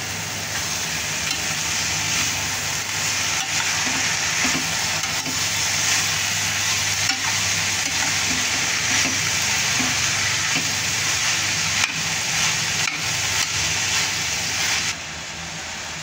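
Green mung bean usal being stirred in a frying pan, a steady scraping and gentle sizzle running continuously at close range with soft clinks, no talking.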